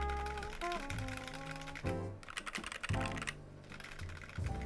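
Typing test on a KBD67mkii mechanical keyboard with lubed Tealios switches, soft keystrokes heard faintly beneath louder background music, barely distinct.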